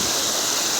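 A mountain stream in Quezon flows in a steady, broadband rush, close and continuous for under a second with no voices over it.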